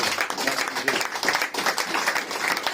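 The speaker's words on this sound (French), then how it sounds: "Est-ce que tu peux acclamer Jésus?" A Sunday church congregation applauding and cheering for Jesus, a loud, continuous roar of clapping with pulsing surges and voices mixed in.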